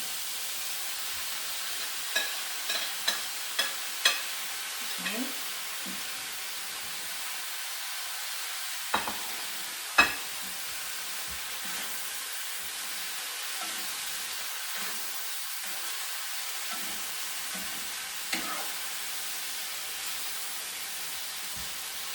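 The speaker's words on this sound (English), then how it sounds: "I'm going to add my beef back in" Beef and celery stir-frying in a hot pan give a steady broad sizzle, broken by a few sharp clinks and scrapes of a utensil stirring the food. No one speaks.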